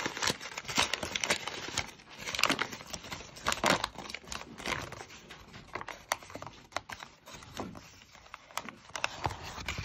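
Paper rustles and crinkles close by in irregular bursts, with soft tapping and handling noises throughout.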